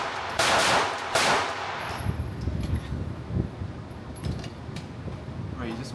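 AlphaFoxtrot Romulus pistol fired at a shooting range: two loud, sharp reports near the start, then fainter shots and clatter over steady outdoor noise.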